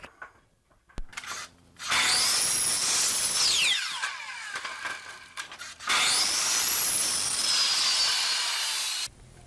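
Ends of square wooden blanks trimmed in a miter box: two loud, sustained cuts separated by a short pause, each whining as the blade bites and then falls away, with small handling knocks around them.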